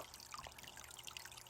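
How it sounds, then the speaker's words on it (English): Water runs and trickles in a planted aquarium tank, a faint, steady babble with small splashy droplets close by. "just the sound of running water just makes it super nice"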